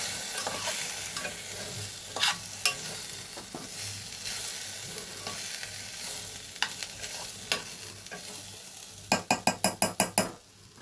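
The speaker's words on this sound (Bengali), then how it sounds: "এবারে আমি এটাকে ভালো করে নাড়াচাড়া করে নেব।" Food frying in a little oil in a pan for a diet meal sizzles steadily while a utensil stirs and scrapes against the pan, ending in a quick run of sharp taps.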